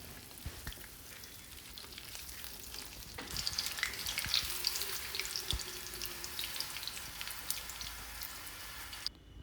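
Puri dough frying in hot oil for a puri and kadala curry breakfast, a steady crackling sizzle that grows busier partway through, with faint clinks and no talking.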